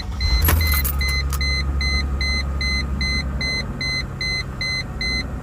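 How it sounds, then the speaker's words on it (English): A Chrysler Crossfire engine, just fitted with a new crankshaft position sensor, cranks and catches in a brief burst. It then settles into a low, steady idle while a dashboard chime beeps in an even, repeating rhythm. "we're going to start the engine and see how things sound. Okay, we go ahead and fire her up."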